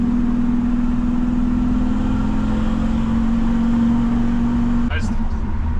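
Engine of a 1961 Ford F100 hot rod pickup running and driving, a steady loud droning hum with a constant tone heard from inside the cab, ending in a brief higher squeak.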